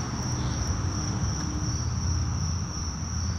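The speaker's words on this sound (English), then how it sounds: "There's either a lot of crickets or some kind of very loud noise-making insects or something around here this time of year." Crickets or similar loud insects drone outdoors on a school campus, a dense continuous high-pitched chirring that stays steady and loud throughout with no talking.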